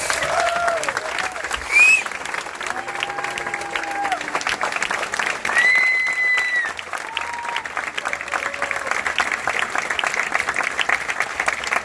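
Sustained audience applause fills a corporate stage event as a guest named Dolly is welcomed on, dense and steady throughout with a few faint tonal sounds and brief voices mixed in.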